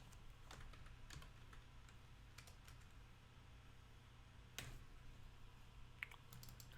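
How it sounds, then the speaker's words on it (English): Quiet typing on a computer keyboard, a rapid run of soft key clicks with a couple of sharper taps near the end, heard alone without talk. "I'm going to just type in Ernest"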